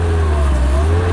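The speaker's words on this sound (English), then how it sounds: "Never been in a Belarus tractor." A Belarus tractor engine runs at a steady, loud, close idle on a farm during manure spreading, a deep constant drone with a faint rising whine above it.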